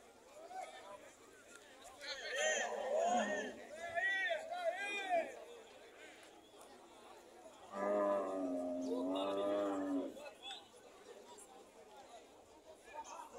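A bellowing bull moos twice at a rainy cattle fair in Tabira, Pernambuco, Brazil, each call drawn out and fairly close, with murmured background noise between them.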